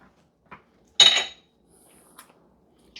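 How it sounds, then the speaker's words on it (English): Apples for cobbler stirred in a pot, one loud metallic scrape of a utensil against the pot with a few faint clinks around it in an otherwise quiet kitchen. "Let me stir my apples while I'm over here."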